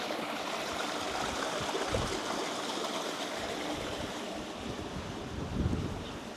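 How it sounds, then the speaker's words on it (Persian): Salty sea water flows near Zia village on Kos, a steady broadband wash with a gentle swell toward the end, blended with wind across the microphone. "این جلو صدای آب میاد، مثل آب شور ماننده آبی در جریان"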